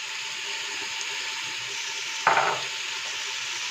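Meat and onions frying in a pot, a constant close sizzle with one brief louder scrape of the stirring spoon.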